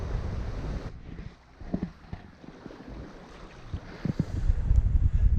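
Wind gusts rumble and buffet across the deck of a Bavaria 41 sailboat under sail near the Norwegian coast, a low rushing roar with soft knocks and creaks that grows louder toward the end, with no voices.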